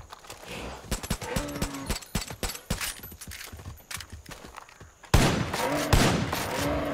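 Gunfire from the video game Far Cry 5, a rapid uneven series of sharp shots with footsteps between them, then a louder burst of sustained firing near the end.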